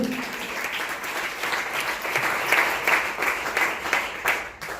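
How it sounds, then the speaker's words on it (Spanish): A church congregation claps steadily for several seconds during a Spanish-language worship service, a dense, even patter of many hands filling the room with no voices standing out. "Dale un aplauso al Eterno."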